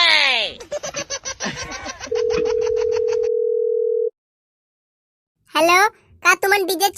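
A telephone dial tone sounds as a steady, unbroken tone for about two seconds while a call to book a cab is placed, following laughter and voices, with talk resuming after a short silence.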